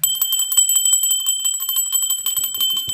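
A bronze bell rings rapidly and continuously in a ritual setting, bright shimmering metallic strikes close and loud, with a faint voice near the end.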